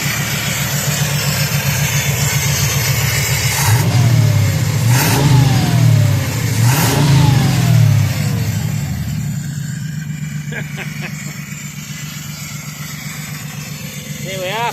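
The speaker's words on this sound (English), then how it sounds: "all you can hear with engine, just hear air intake because they need that much air" A 1969 Lincoln Continental Mark III V8 revs up three times in close succession, each rise swelling into a loud, deep air-intake roar before easing back to a rumbling idle that carries on to the end.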